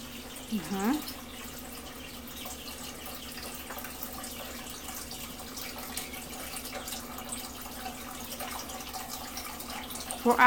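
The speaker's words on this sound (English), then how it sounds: "pick up an egg and start cleaning them" Duck eggs are scrubbed with a sponge under running water, a steady rush of tap flow with faint scraping, and soft voices talk over it.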